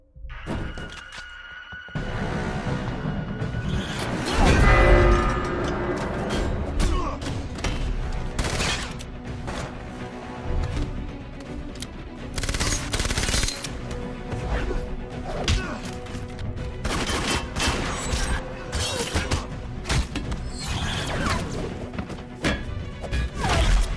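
A KWA VZ61 gas airsoft gun fires in dense, loud bursts of rapid shots, with sharp cracks and clattering impacts on targets. The shooting goes on for most of the span with brief pauses, and faint voices sit in the background.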